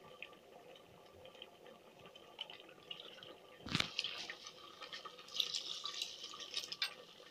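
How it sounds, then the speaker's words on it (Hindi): A glass of water is poured into a pot of masoor dal with tamarind, giving a quiet trickle, a brief splash, then a louder pouring stream toward the end. "अब 1 गिलास पानी हम इसके अंदर शामिल करेंगे।"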